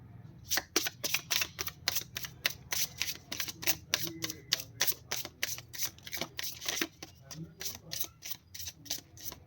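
A deck of tarot cards is shuffled in quick, crisp riffling bursts that repeat in a steady rhythm close by, with faint murmuring talk underneath at times.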